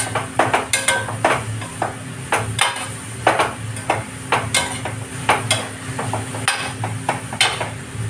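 Grated carrot sautéing in hot ghee in a pan for carrot halwa, with steady close sizzling under repeated stirring clinks and scrapes of a spoon against the pan.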